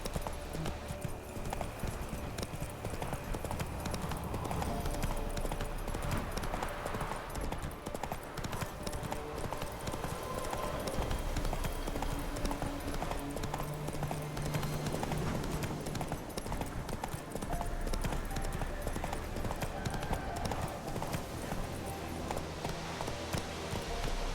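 Roach the horse gallops steadily through The Witcher 3, hooves clip-clopping in a continuous driving rhythm under a dense, loud game soundscape, with no talking.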